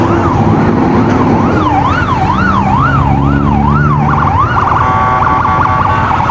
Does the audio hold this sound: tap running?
no